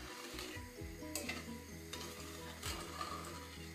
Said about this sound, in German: das kocht jetzt und es hat sich aufgelöst